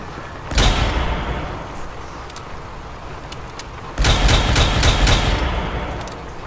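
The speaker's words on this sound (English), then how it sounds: "that's the Furious Blood Pistol" Bursts of Furious Blood Pistol gunfire from the Fallout 4 vampire mod: a loud shot near the start, then a rapid cluster of sharp reports after a pause, alone with no talking.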